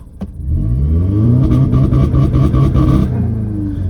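A loud tuned Audi S3 2.0 TFSI engine with a Garrett turbo, around 470 hp, revs up hard in a launch-control start, rising in pitch with a rough, throaty rumble before settling back.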